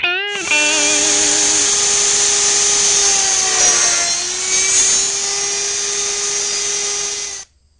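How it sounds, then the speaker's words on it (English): A dovetail router bit cuts a groove in wood for a small box. The router spins up sharply and holds a loud, steady high-pitched whine with a slight dip midway, then stops abruptly near the end. "you have to use a dovetail router bit to make this groove"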